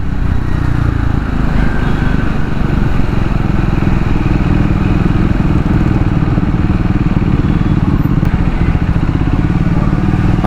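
A Triumph Scrambler 400 X motorcycle engine rumbles continuously and loudly on a ride, with a steady low throb throughout and no talk.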